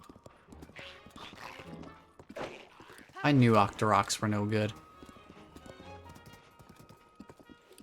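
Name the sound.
horse hooves clip-clopping, Zelda: Tears of the Kingdom video game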